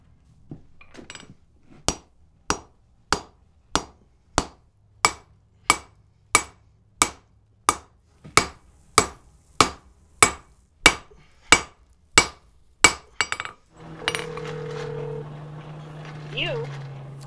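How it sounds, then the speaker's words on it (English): A smith hammers 1-inch round wrought iron, about twenty sharp, evenly spaced ringing blows close by, followed by a brief pause and then a voice with tonal background sounds. "So, going to be lots of hammering."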